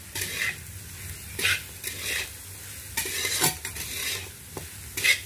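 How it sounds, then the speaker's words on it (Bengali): Food with added salt stirred in a frying pan, a low sizzle under bursts of scraping spatula strokes and light metal clinks, close by with no talking. "এটাকে ভালো করে নেড়ে নিচ্ছি"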